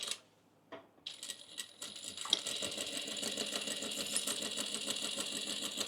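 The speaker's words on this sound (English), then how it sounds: "I'll just sew these ends down, and I'll do them both while I've got my stitch length the same" A sewing machine runs steadily for several seconds as it stitches down the fabric ends of a beginner retro bag, a continuous close mechanical whir that follows a few brief handling noises.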